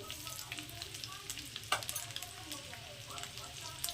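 Eggs frying on a tawa with salt sprinkled over them, a continuous low sizzle with a sharp tap near the middle and light clinks, close and fairly quiet.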